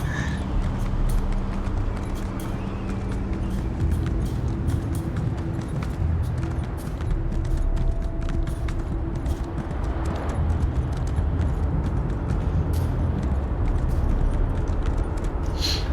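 Continuous galloping hoofbeats of a horse ridden through Coldharbour in Elder Scrolls Online, steady, close and loud over a low ambient rumble.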